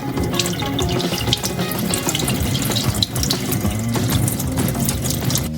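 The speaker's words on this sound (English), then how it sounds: "To make it work, it needs to be filled with as cold of water as possible." Cold water gushes loudly into a flask, close up, a continuous bubbling, splashing fill with gurgling pulses and no talk.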